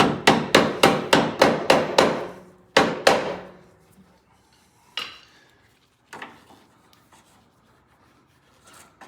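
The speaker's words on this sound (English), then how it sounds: "Get my rubber hammer." A rubber hammer taps on lawn mower steering bushings during a bushing replacement: a fast run of about eight close, sharp knocks, a pause, then two more, followed by a few scattered fainter knocks and clinks.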